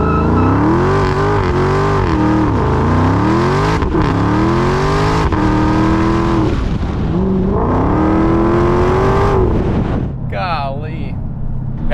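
A 2018 Dodge SRT Demon Challenger with stripped-out insulation accelerates hard through several gear changes, its engine rising and dropping in pitch under a constant supercharger whine, heard loud from inside the cabin.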